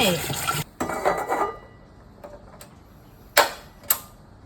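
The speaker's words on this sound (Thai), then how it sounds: "จะเอามากระทะเหล็กมาจุดไฟอีกรอบหนึ่ง" An iron wok clanks and scrapes a few times, with a couple of sharp knocks near the end, close by in a quiet room.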